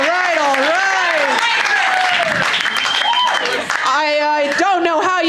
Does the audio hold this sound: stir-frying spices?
no